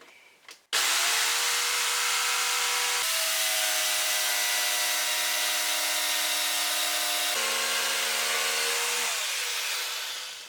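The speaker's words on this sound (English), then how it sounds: "This way, I make the first cut on all the rods." Jigsaw cutting through wooden rods, a steady loud buzzing saw tone that starts abruptly, holds with brief pitch dips between passes, then fades out at the end; no voices.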